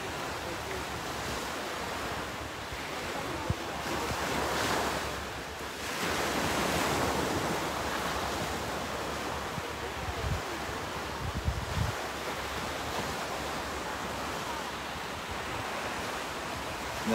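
Ocean waves beside the collapsed building site in Miami roll in a steady wash of surf, with swelling rushes and some wind on the microphone, fairly loud and continuous without talk.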